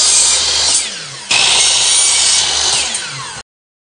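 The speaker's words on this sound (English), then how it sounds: "I'm just going to chop these corners off on the miter saw." Miter saw cutting the corners off wooden stool legs: two loud, sustained whining cuts back to back, with a brief dip between them and an abrupt stop at the end.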